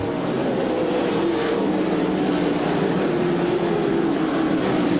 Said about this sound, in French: On les voit s'amener au virage 5A, 5B maintenant.